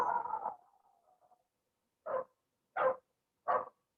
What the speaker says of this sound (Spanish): me imagino que es el perro de Germán.